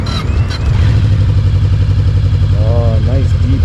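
A 2014 Yamaha VMAX idles with a deep, throbbing low tone, loud and close, steady after a brief catch at the start, while someone speaks over it.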